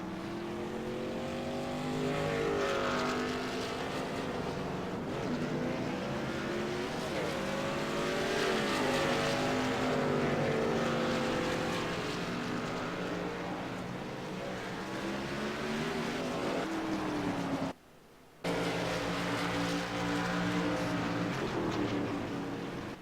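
Race trucks in a USRC Truck Series event roar along pit road during pit stops, a continuous loud engine drone with shifting pitch as they whip past, broken by a brief gap, with faint commentary underneath.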